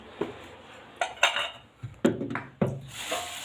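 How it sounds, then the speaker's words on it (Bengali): Two newly bought metal woks are handled alone in a quiet room, giving several separate clanks, scrapes and knocks of metal at close range. "আর নিয়ে এসেছি কড়াই। এই কড়াই দুটো আমার খুব প্রয়োজন ছিল।"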